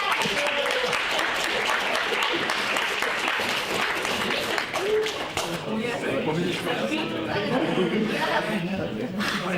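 Audience applause fills a room at a fan convention quiz as third place is announced, steady dense clapping throughout with some chatter and chuckles mixed in and a slight dip midway.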